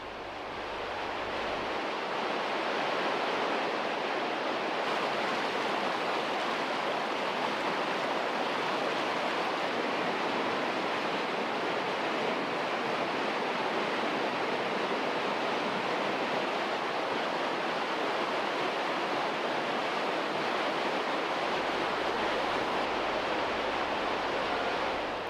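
Underground river water roaring through cave rapids, whirlpools and cascades, a loud, steady, unbroken rush of turbulent water that fills the whole stretch with no voices.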